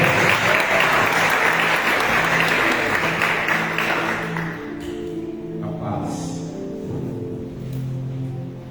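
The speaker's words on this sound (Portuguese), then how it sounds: "E as palmas do nosso Senhor." A church congregation claps together in sustained applause, loud and dense at first, then thinning and softening after a few seconds as scattered voices and music tones carry on beneath.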